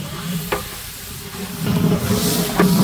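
Chicken pulao sizzles and is stirred in a large pot as spices go in for an iftar meal, giving a steady frying hiss that swells louder toward the end, with a few sharp scrapes of the spoon.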